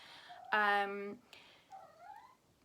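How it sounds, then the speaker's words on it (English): A cat meows loudly up close, one long harmonic cry followed by a softer, shorter rising meow. "that's my cat. She's talking if you can hear her."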